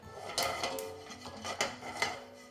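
A utensil scrapes and rubs in a pan of grapes caramelizing with sugar and toasted sesame, a close, continuous rasping with light metallic clinks and no talk.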